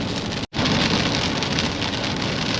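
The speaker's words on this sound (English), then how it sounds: "It's still raining." Heavy rain pours down steadily outdoors at a lakeside condo during a hurricane, a loud, dense wash of drops broken once by a split-second gap.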